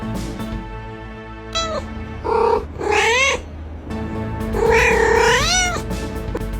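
A cat meows repeatedly in an exam hall in Indonesia, several drawn-out, rising and falling cries close by against a steady low background hum, with short pauses between calls.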